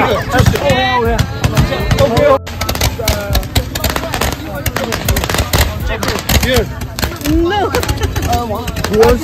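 Firecrackers burst in rapid, loud, crackling volleys that go on without pause at a New Year celebration in China, with people shouting and talking over the bangs.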